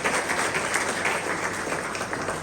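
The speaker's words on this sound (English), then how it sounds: "So really give a big round of applause." An audience at a charity run event in Delhi claps in a sustained, even round of applause, moderately loud and continuous throughout.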